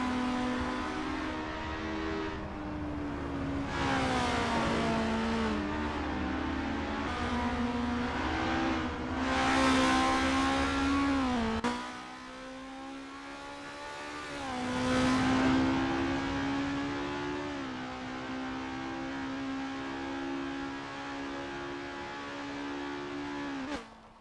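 Estonia-25 open-wheel race cars from a racing video game warm up at Zandvoort, engines droning and revving continuously with rising and falling pitch as cars pass, loud and steady with no talk.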